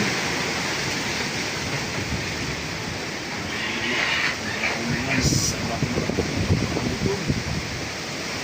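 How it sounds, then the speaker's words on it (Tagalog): Heavy rain pours steadily during a storm strong enough to topple bamboo, a dense broadband roar throughout with brief louder gusts and faint background voices. "Sige na ang ulan malakas."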